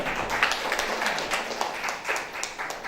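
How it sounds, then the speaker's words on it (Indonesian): Clapping from a group at a school principals' performance assessment meeting, fairly dense and steady with a few sharper claps standing out. "Tepuk tangan untuk beliau."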